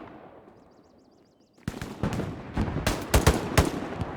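Gunfire in the World War II shooter Hell Let Loose, starting after a quiet stretch with a burst of sharp, loud shots in quick irregular succession, some closer and heavier than others.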